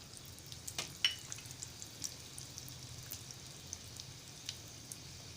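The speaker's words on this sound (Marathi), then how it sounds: "आता तेल थोडं गरम झालेलं आहे आता मी हिंग घालत आहे" Asafoetida hits hot oil for a crab curry tempering, giving a faint, soft crackling sizzle with scattered small pops over a low steady hiss.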